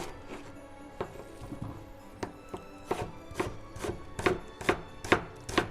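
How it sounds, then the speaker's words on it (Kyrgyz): Onion being chopped into long thin strips on a cutting board, a steady series of crisp knife taps that grow louder and more regular toward the end. "Пиязды да башкача узун-узундан туурайт экен"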